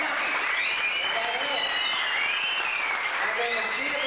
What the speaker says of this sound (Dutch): Ik wou graag een enorm applaus voor die mensen die vanavond goed gedaan